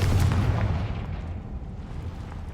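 Confringo spell blast in Hogwarts Legacy, a heavy booming explosion that is loudest at the start and rolls off into a fading rumble, with no voices.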